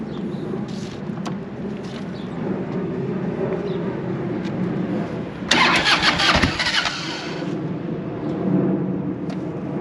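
An old Harley-Davidson motorcycle is started, with a low mechanical churn before a sudden louder burst as the engine catches, then settles into a rough running rumble.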